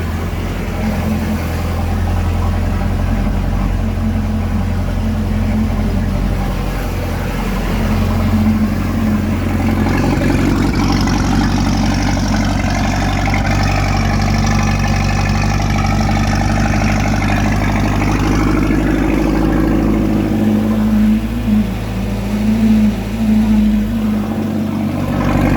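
A one-of-a-kind speed boat engine runs steadily after starting, a loud continuous low rumble with a slight rise in revs midway before settling back to a smooth idle, with no talking.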